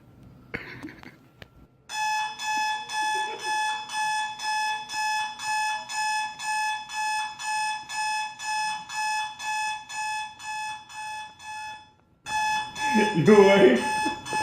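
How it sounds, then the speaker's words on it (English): An alarm clock rings in a fast, regular series of bright electronic beeps for about ten seconds, framed by voices talking before and after. "10 hours alarm clock, here I go."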